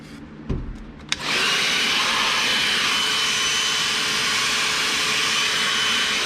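A Bauer 20v cordless vacuum switches on after a couple of faint clicks and runs as a loud, steady, close whooshing whine with no talk.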